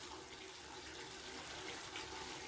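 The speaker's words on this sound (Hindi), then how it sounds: "अभी मैं इसमें पानी डाल के" Water pouring into a cooking pot while making a pumpkin and potato curry, a soft, steady trickling stream that continues faintly for a couple of seconds.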